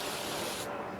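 Spray adhesive hissing onto fabric pieces for a car headliner recovering job, one steady close-up burst that cuts briefly near the end.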